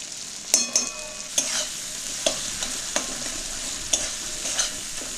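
Coriander, turmeric and chilli powders fry in a pan as a spatula scrapes through them in spaced, sharp strokes over a constant sizzle, no voices.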